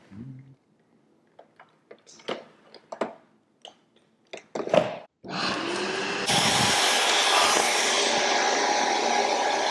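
A newly bought household vacuum cleaner starts after a few scattered clicks and handling knocks. Its motor roars up midway, then steps up to a louder, steady whine that runs to the end, close by with no speech.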